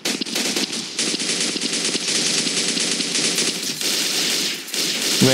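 The most expensive weapon in the video game Global Strike fires in rapid automatic bursts, a dense, loud rattle of shots with a few brief pauses across the clip and no speech.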